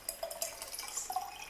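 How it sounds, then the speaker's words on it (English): Brita filtered water poured into a glass jar: a faint, quiet trickle and gentle splashing throughout, with no speech. "And I take my Brita filtered water and just fill it up."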